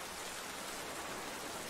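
Steady rain falls over the marsh wetlands in the video game Pokemon Scarlet and Violet, a soft, even wash of hiss that stays constant and fairly faint throughout.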